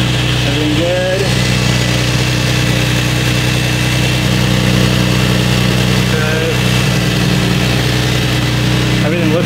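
Nissan 350Z engine idling with Nismo headers installed, a loud, steady, close rumble running throughout, with people talking faintly over it.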